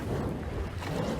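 Boat engines start up in a Peppa Pig cartoon, giving a low, steady rumble with a windy, watery wash over it, continuous and unbroken.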